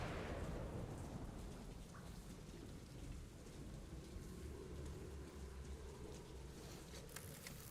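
Steady heavy rain with rolling thunder in a storm scene from a Metro video game, a dense continuous roar that stays loud throughout with no talking.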